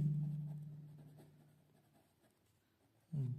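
A pen scratches softly across paper while working out a quadratic equation for a tenth-grade maths lesson: faint, quiet strokes over a low steady hum, with nothing spoken.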